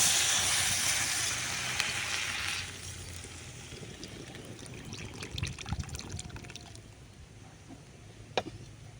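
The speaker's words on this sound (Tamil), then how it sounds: "இப்போ நம்ம அரிசி களைஞ்ச தண்ணியை வந்து ஊற்றிக்கலாம்." Rice-washing water pours from a vessel into a cooking pot of sautéed ingredients, a steady splashing trickle that is loudest at first, then eases into softer dribbles and small splashes nearby.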